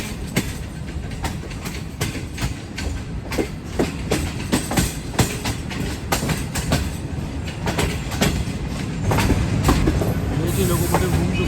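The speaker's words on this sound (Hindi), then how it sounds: "देखिए लोकोमोटिव घूम चुका है प्लेटफॉर्म नंबर 2 की तरफ।" The Green Line Express rolls toward platform 2 at Lahore Junction with a steady clickety-clack of wheels over rail joints. Sharp, repeated clacks ride over a low rumble and hiss, with brief wheel squeals near the end.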